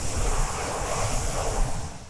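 Layered, processed whoosh effect built partly from car key jingles, a broad airy swirl with chorus, delay and heavy reverb, sustained at steady loudness for about two seconds with no voices.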